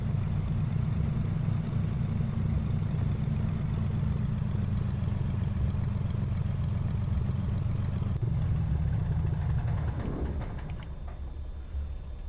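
A propeller aircraft engine in Microsoft Flight Simulator X idles with a steady low drone, then shuts down near the end, its hum winding down and fading.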